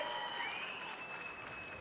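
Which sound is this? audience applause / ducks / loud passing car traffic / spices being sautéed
audience applause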